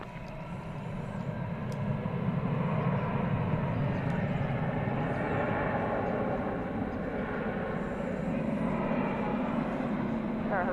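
American Airlines jet rolling for takeoff on runway 18 left at DFW, a steady broadband engine roar that holds loud and even throughout, with faint radio chatter in the background.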